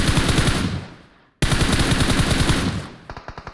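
Rapid automatic gunfire in the mobile battle royale game PUBG Mobile, loud close bursts with a short pause, then a quicker run of separate sharp shots at the end.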